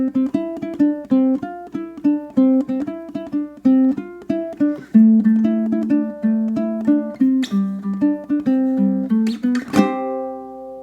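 A ukulele plays the closing pass of a punk rock riff, bright plucked chords in a steady driving rhythm that climb near the end and finish on a final strummed chord left ringing, close and alone.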